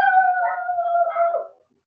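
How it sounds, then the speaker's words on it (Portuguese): A single dog howls in a long, steady, sustained tone lasting about a second and a half, fairly close and loud, before cutting off into silence; no barking stands out. "Cachorrada."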